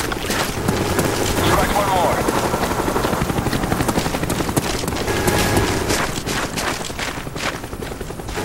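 A Cobra attack helicopter killstreak in Call of Duty Black Ops roars with loud, rapid rotor chopping throughout, joined by bursts of gunfire and game voices.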